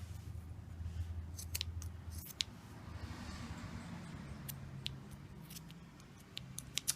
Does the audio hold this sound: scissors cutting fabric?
yes